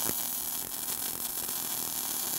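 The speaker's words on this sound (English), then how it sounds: "So now I'm gonna fire up the cute little welder here." A small welder runs steadily on a 1975 Chevrolet K10 truck, welding a muffler onto the exhaust pipe, giving a continuous buzzing, crackling hum that holds level for the whole stretch, close and alone.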